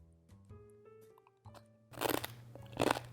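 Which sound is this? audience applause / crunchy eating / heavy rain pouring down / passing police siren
crunchy eating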